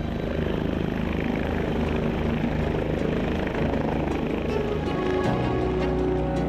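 A Bell 429 helicopter flies nearby with a continuous, loud rotor thrum and engine whine, steady throughout with no voices.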